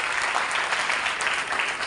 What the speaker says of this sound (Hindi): हम ताली बजाकर उनका स्वागत करें।